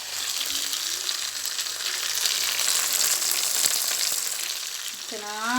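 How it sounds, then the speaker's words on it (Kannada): Koddai fish fries in a pan with a steady, dense sizzle and crackle that stays loud and even throughout, ending with a brief rising whine. "ಒಂದು ಸೈಡು ಈ ಥರ ಫ್ರೈ ಆಗಿದೆ ತಾನೆ"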